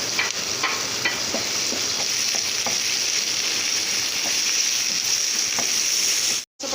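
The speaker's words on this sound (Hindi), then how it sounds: "इसी में ये प्याज मैं फ्राई करूँगी" Onion frying in a kadai, with a steady close sizzle and crackle broken by light stirring scrapes and a brief dropout near the end.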